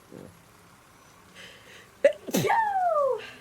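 A single sharp sneeze bursts out after a short breath in, close and loud, in an otherwise quiet room.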